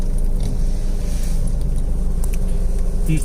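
Heavy road traffic on the Vijayawada–Hyderabad highway during a jam makes a steady low rumble of car and vehicle engines, with light rattles and occasional passing swells.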